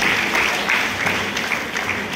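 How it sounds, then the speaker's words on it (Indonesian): An indoor congregation applauds its supervisor at an ecumenical seniors' church service, a dense, steady clapping from many hands that stays loud and close throughout with no talking. "Tepuk tangan dulu pembina kami yang luar biasa."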